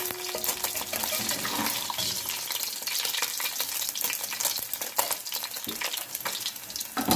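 Chicken being fried in a pan for restaurant-style yakhni pulao gives a steady, dense sizzle with occasional stirring scrapes and clatter, close and continuous throughout with no talking.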